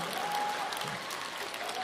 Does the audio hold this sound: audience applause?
yes